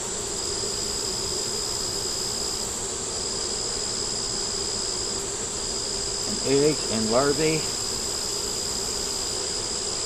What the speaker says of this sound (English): See this bunch of bees over here?